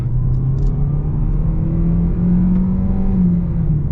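2024 Hyundai Sonata Hybrid accelerating in sport mode, a steady low cabin rumble and engine drone with a rising whine, heard from inside the car without talk.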